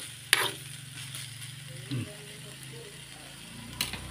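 Leftover pancit noodles stirred and reheated in a pan, with a steady low sizzle, scraping utensil strokes and a few sharp clinks against the pan near the start and end.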